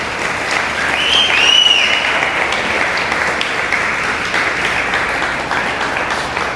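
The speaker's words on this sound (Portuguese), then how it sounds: "Dá um aplauso ao Senhor Jesus." Sustained applause from a church congregation fills the space, steady and dense with a brief swell near the start, then holding evenly to the end.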